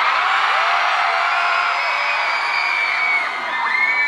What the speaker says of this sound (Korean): 지금까지 제 무대가 좋았다면 그 좋았던 감정을 함성으로 한번 표현해 주시겠어요?